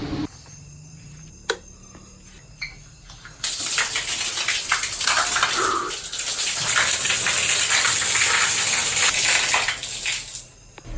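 Shower water rushes in steadily in a tiny house in remote Costa Rica. It comes on loud after a few seconds of quiet with faint clicks and then runs for several seconds before easing off.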